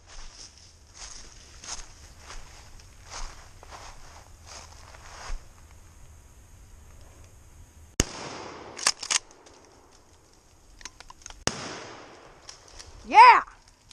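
A rifle fires while hunting gray squirrels in woods: one sharp crack near the middle, followed by rustling, brush movement and a second loud burst near the end, with faint footsteps and quiet surroundings.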